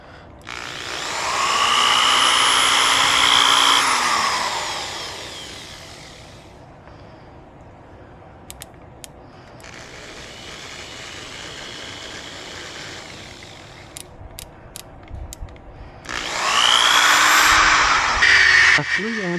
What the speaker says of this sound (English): this 6-amp rotary sander made the job much easier, quicker, and less effort-intensive